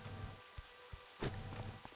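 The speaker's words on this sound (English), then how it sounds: "I like that it's raining in game" Steady rain falls in the World of Warcraft video game, a continuous soft hiss with a few faint drop-like taps, and no talking.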